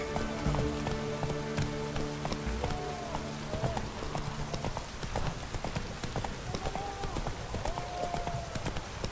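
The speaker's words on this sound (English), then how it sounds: "It's damp. It's Redania. It's raining." Rain patters steadily in The Witcher 3 in rainy Redania, mixed with horse hooves clip-clopping at a walk and occasional game tones, a continuous wet hiss under the rhythmic steps.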